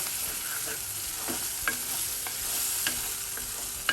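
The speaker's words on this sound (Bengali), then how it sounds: "মাছটা এভাবে করে আলাদা আলাদা আলতো করে নাড়া দিব ভালো মতো করে নাড়া দিচ্ছি" Small mola fish fried with potato in a pan, a steady sizzle of oil under gentle, occasional scrapes of a spatula moving the pieces apart, close and continuous.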